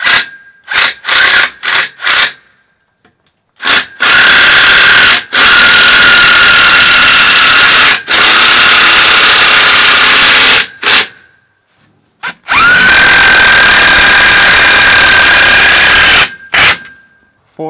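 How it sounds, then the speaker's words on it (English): A power drill with an eighth-inch bit whines loudly in repeated long bursts, pre-drilling sheet metal with a high squeal, separated by short pauses and clicks. "If you pre-drill it first with an eighth inch bit,"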